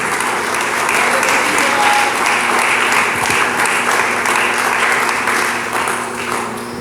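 A church congregation claps for the Lord during a Spanish-language sermon, a loud, continuous burst of applause that stays strong and dense before tapering slightly at the end.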